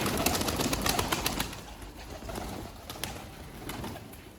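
Pigeons coo softly nearby with scattered flutters and clicks, the low murmuring rising and falling against light background noise.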